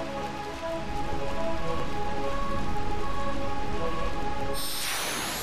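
Steady rain falls in the video game Final Fantasy IX, a dense, even patter with background music tones underneath. A bright whooshing game sound swells in near the end.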